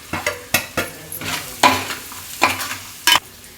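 Masala being stirred into rice in a pan: a run of sharp spoon scrapes and clinks against the metal in an uneven rhythm over a faint sizzle, close and fairly loud, with no talk.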